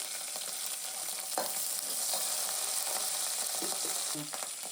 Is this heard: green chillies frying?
yes